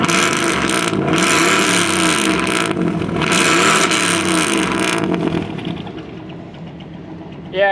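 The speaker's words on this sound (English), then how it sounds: "she's kind of stupidly obnoxiously loud. Freaking straight pipe big block" A straight-piped big block engine in a truck blasts loud and close, revving in repeated surges over a rough idle, then settling lower near the end.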